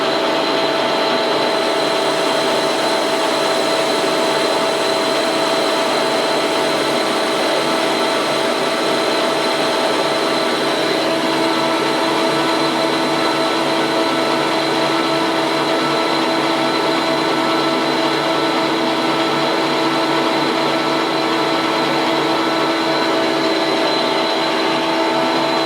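A lathe machining valve rod knuckle joints for a 7 1/4 inch steam locomotive, with a loud, steady motor whine and a constant mechanical hum that runs without a break through the whole stretch.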